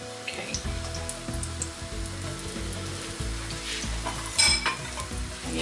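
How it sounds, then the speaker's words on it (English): Onions sizzle and crackle in hot oil, with stirring scrapes and a brief clatter of a utensil against the pan. "What I'm going to do is add the onions to it. Chuck the onions in."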